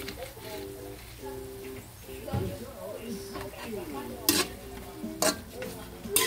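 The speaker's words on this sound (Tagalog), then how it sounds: "Yan, gisa-gisa lang." Sautéing for Lome soup in a pan: a steady low sizzle with stirring scrapes and a few sharp utensil clinks against the pan, under a voice talking throughout.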